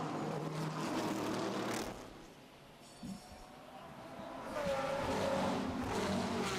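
Race cars roar along the track at the Blancpain Sprint Series qualifying race in Baku, a Porsche among them, with loud engine noise that dips briefly in the middle before building again.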